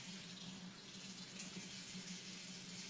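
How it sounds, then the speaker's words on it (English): Lukewarm water pours steadily into a small portable washing machine, a soft, continuous splashing and trickling that stays fairly faint throughout with no talking. "put it on the side, and then pour the water in"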